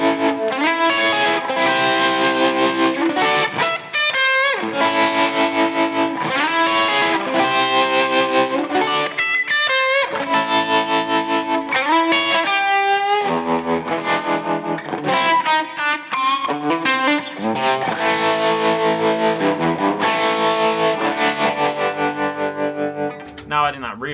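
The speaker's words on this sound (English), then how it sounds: "let me play that once again, but without the lashings of reverb" A distorted Les Paul Custom electric guitar plays a chord riff with chorus-like shimmer and little reverb, loud and continuous throughout.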